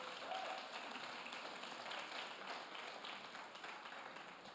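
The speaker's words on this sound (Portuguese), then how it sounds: "Dê um aplauso ao Senhor." Church congregation clapping together during a service, a soft, continuous patter of many hands at a distance that stays even throughout the clip.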